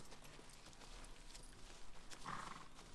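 Horse hooves clip-clop in a steady walking rhythm in the video game Shadow of the Colossus, faint and quiet against a soft ambient background.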